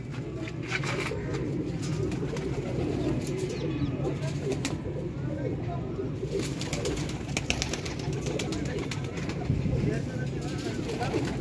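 Pigeons coo steadily in a loft or rooftop coop, a low continuous murmur of many birds with occasional chirps and wing flutters, fairly close and moderately loud throughout.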